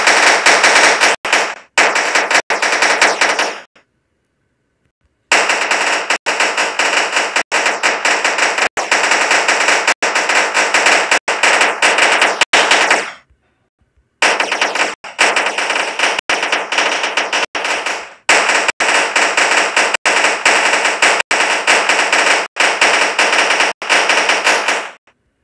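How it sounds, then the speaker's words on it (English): Rapid automatic gunfire from the video game Blocky Cars, loud and continuous in long dense bursts broken by a few brief silent gaps, with no talking. "I don't really talk while I'm shooting because you'll never be able to hear me."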